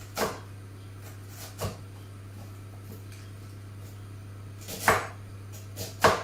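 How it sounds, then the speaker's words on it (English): A knife chops onions on a board in a few sparse, separate strikes, faint and fairly close, over a steady low electrical hum; nobody speaks. "So we're going to finely chop our onions"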